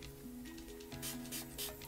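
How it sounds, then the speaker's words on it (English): Several short hissing bursts of a Joico heat protectant spray bottle on hair, close by, over a steady low hum and faint background tones. "I'm going to spray this Joico heat protectant spray."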